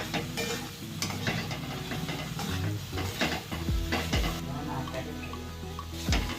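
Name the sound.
stirring a sandwich filling mixture with chili powder in a pan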